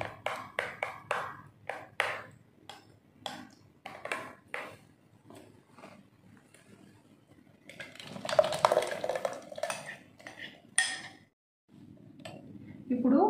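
Banana cake batter with vanilla essence is stirred in a bowl, giving a run of soft rhythmic scraping and tapping clinks of a spoon against the bowl, with someone talking over parts of it.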